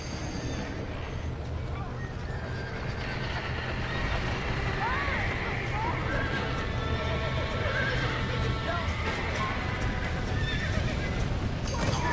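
Several horses whinny and neigh repeatedly amid a dense, noisy commotion of hooves and rumbling, with brief voices mixed in.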